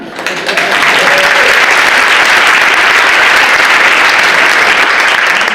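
An audience at an inspirational charity breakfast claps loudly and steadily, a dense sustained round of applause that swells at the start and holds evenly throughout.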